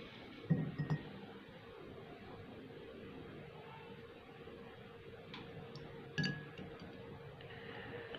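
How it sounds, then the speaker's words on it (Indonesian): An egg lowered into a drinking glass of water makes two faint, sharp clinks several seconds apart against a quiet background. "masukkan telur perlahan ke dalam gelas yang pertama."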